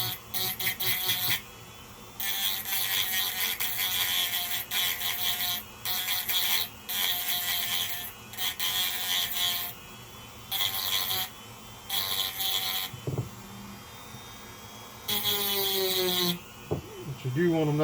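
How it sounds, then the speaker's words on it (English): A Dremel rotary tool grinds on a lithium-ion battery in repeated buzzing bursts of a few seconds each, separated by short pauses, loud and close. "You want to keep your little Dremel bit moving around so that you don't heat the battery up."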